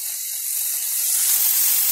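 Potatoes sizzle as they drop into a hot pan of oil for poha, a bright, steady hiss that swells slightly and stays close and continuous, with no talk over it.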